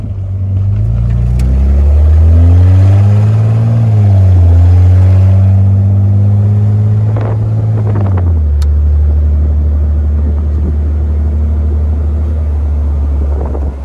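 Mercedes SLK-based kart with a nitrous setup revs hard, a loud droning engine note rising and dipping as it accelerates before settling into a steady roar, with no talk.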